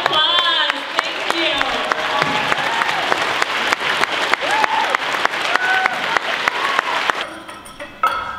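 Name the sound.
audience applause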